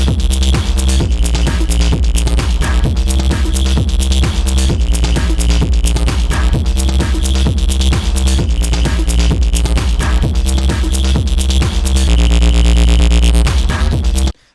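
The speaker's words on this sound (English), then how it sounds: "we're going to be making a wobble bass" A Sytrus wobble bass demo plays loud and steady with drums, the heavy bass pulsing in a rhythmic wobble under dense synth layers for about fourteen seconds before cutting off abruptly.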